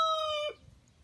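A single rooster crows loudly and close in a Ukrainian field, a bright harmonic call lasting about half a second before fading into quiet.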